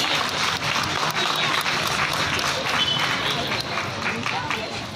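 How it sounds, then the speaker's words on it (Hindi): Loud, continuous applause from an audience at a community award ceremony, a dense sustained clatter of many hands lasting throughout. "जोरदार तालियां प्लीज"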